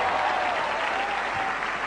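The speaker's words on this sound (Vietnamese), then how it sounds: "Một tràng pháo tay cổ vũ tinh thần cho bạn Thùy Hương." Studio audience applause on the Vietnamese HTV7 television game show Chuyện nhỏ, a steady, dense wash of clapping held at even loudness throughout, with no voices over it.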